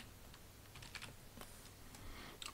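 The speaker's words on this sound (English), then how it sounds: "Now I have to type in my password." Faint keystrokes on a computer keyboard as a password is typed, a short uneven run of soft clicks heard close and alone.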